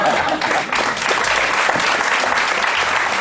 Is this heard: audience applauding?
yes